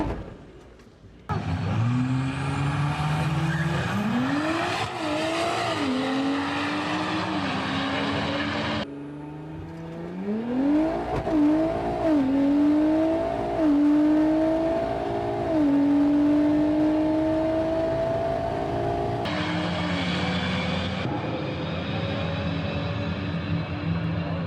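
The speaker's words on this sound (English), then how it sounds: "this was my first time ever doing a burnout in my SQ5 to warm up my drag radials" Audi SQ5 on drag radials doing a burnout, then launching down a quarter-mile drag strip, engine revving and rising through several gear changes, loud and continuous, heard from inside.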